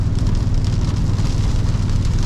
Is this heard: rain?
yes